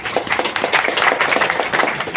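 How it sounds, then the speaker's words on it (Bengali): An audience claps together at a political talk, a dense, steady patter of many hands sustained at even loudness throughout, with no voices over it. "একটা হাততালি দিন।"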